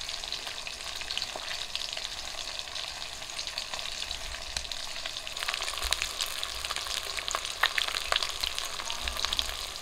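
Bata river fish frying in hot oil, a continuous crackling sizzle with bursts of popping, heard close and fairly quiet with no talking.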